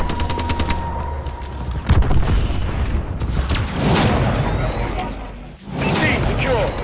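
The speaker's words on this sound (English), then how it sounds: "Friendly missile strikes inbound." Friendly missile strikes exploding in Call of Duty: Advanced Warfare Domination, heavy booms and rolling blasts mixed with nearby gunfire, loud and sustained throughout.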